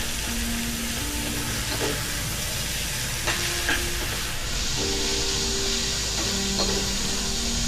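Tomatoes fry with onions in a pan, a constant close hissing sizzle with faint scraping and clinks of stirring over it.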